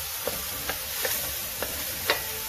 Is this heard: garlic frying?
yes